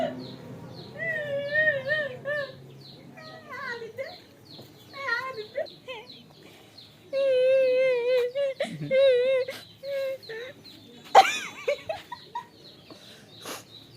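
Ducks and chickens at a rural family home call out in short wavering cries and clucks, close and intermittent, with bursts of several calls in a row and quiet gaps between.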